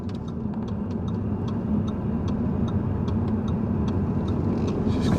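An Audi Q3 on a test drive, its steady engine and road noise humming throughout with faint regular ticking clicks over it, no talking.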